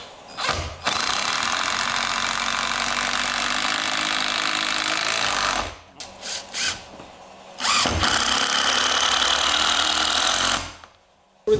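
A SnapFresh 20V cordless impact driver, model BBT-POB04, drives 75 mm screws in long, loud rattling bursts, with short pauses and brief stutters between runs.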